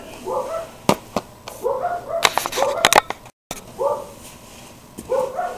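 Several household dogs bark and yip in repeated bursts after someone comes to the door, fairly close, with short gaps between volleys.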